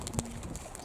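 Baku pigeons, young marble-necked birds among them, coo softly in a short burst over steady outdoor background noise, with no one speaking.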